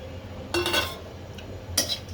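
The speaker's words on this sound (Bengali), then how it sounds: "এখানে মরিচ টেলে নিচ্ছি।" A spatula scrapes and clinks against a metal wok while dry red chillies roast, in two short clattering bursts over a quiet kitchen background.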